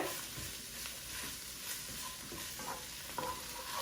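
Onions and garlic frying in a pan for a Sylheti greens dish give a steady, close sizzle throughout, with soft stirring scrapes now and then and no voices.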